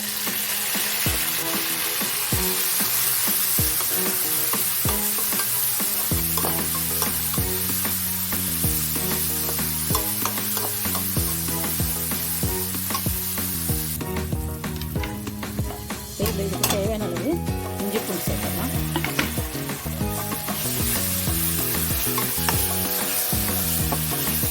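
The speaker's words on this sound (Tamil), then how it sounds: "இஞ்சி பூண்டு வந்து பச்சை வாடை போக வச்சு நல்லா வதக்கிக்கிறேன்." Ginger garlic paste sautés in a hot pan for paneer lababdar, a loud continuous sizzle broken by repeated scraping and clinking stirs of a spoon against the pan, close and without talk.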